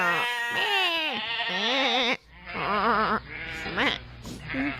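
A person's voice imitates a lamb, giving a run of several wavering, nasal bleats close up. Short pauses separate the bleats.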